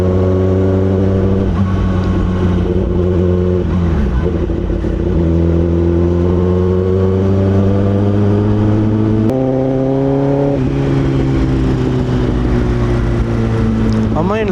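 A Kawasaki ZX10R sport bike rides at night through Hyderabad, its engine droning loudly and steadily with rising and falling pitch as it shifts through the revs, while wind rush persists throughout.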